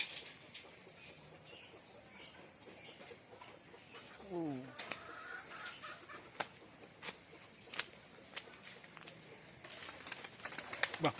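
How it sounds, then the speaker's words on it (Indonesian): Pigeons in a tree crowded with birds, with soft scattered wing flaps and faint clucks and coos at a distance, and brief bursts of flapping toward the end while people talk quietly. "Pohon penuh dengan burung."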